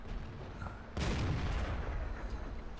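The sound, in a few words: tank gun firing in the video game World of Tanks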